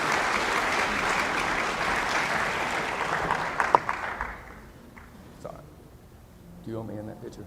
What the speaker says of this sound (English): give a round of applause for these ladies